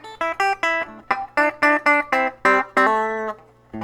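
A 1965 Vox Spitfire electric guitar on a single pickup, Strat position 1 equivalent, plays a bright run of short plucked notes and chords in quick succession, ending on a held ringing chord, loud and clear with no talk.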